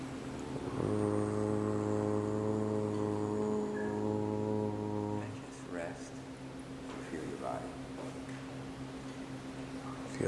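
A voice hums a low, sustained foghorn-like tone for several seconds, mimicking a horn blast, followed by quieter murmuring.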